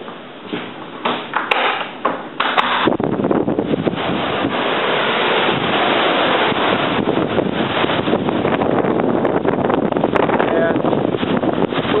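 Strong wind from Hurricane Sandy buffeting a microphone outdoors, a loud continuous roaring rush that builds after a few seconds, with occasional bumps and a voice faintly underneath.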